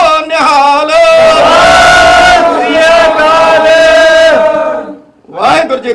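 A Sikh congregation at a gurdwara loudly answers the jakara war cry in unison, a long sustained collective shout that fills the space before trailing off into scattered voices.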